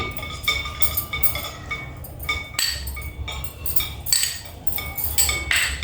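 A metal spoon stirs chicken biryani ingredients with bright clinks and scrapes against the pot, coming in quick irregular bursts up close.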